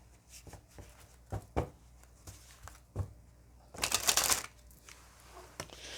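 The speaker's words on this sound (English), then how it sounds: "I'm going to pull some cards from that archetype and shadows deck" Tarot cards from an Archetype and Shadows deck are shuffled and pulled, with soft irregular flicks and taps followed by one louder riffle of cards, close and quiet, and no speech.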